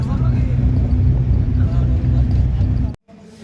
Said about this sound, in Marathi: वाहतूक चालू झालेली आहे बोगद्यामधून